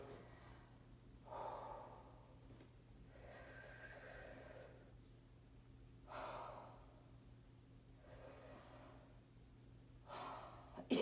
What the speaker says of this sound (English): Same breathing exercises.